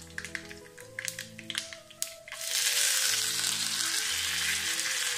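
Fenugreek seeds, red chilies and curry leaves drop into hot oil for a ripe mango pulissery tempering: a few light taps, then a loud, steady sizzle that fills the rest.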